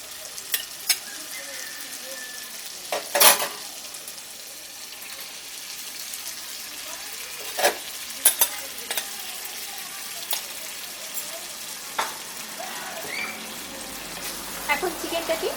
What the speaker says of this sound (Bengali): এবারে এর মধ্যে আমি ম্যারিনেট করে রাখা চিকেনটা দিয়ে দিচ্ছি।